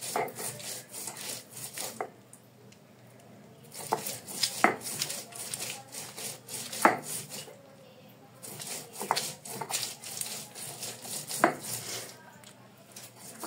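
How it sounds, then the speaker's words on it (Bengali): Chili paste being ground by hand on a traditional grinding stone, a rhythmic series of rough scraping and rubbing strokes with short pauses between bursts, close and fairly loud with no talking. "এখন প্রথমে এই মরিচ পেস্টগুলোকে সুন্দর করে বেটে নিব।"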